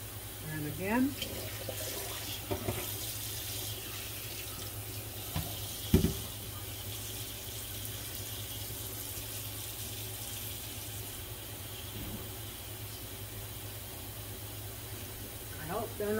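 Cold water pours from a kitchen tap into a pan of boiled eggs, a steady hissing stream with a few knocks and clatters of the pan.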